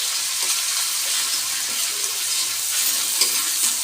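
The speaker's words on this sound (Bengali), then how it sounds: "পেঁয়াজটাকে ভালোভাবে ভাজতেছি" Ground onion paste fries in hot oil in a wok, a steady loud sizzle with scraping stir strokes throughout and no talking.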